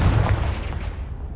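A Confringo fire spell detonating against a pile of debris in the game Hogwarts Legacy, a single loud close boom that rumbles and fades out over a second.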